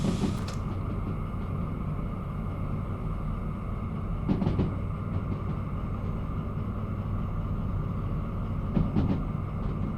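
A train in the railway game Derail Valley runs with a steady low mechanical rumble and hum, broken by two brief clanking knocks at regular intervals.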